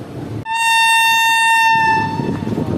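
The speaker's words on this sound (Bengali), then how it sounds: "কত বড় ট্রেন দেখেছো, বেরিয়ে আসছে আজিমগঞ্জ সিটি কেবিন থেকে ধীরে ধীরে।" A loud, sustained train horn blares close by for about two seconds over the low rumble of a long train slowly leaving Azimganj City cabin in heavy rain.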